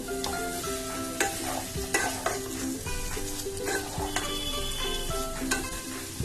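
Jackfruit sautéing with spices in a pan for a Bengali echor kalia: a steady close sizzle under repeated scraping and stirring strokes, with no talking.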